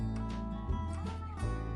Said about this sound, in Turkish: minik pisi miyavlayarak kaçar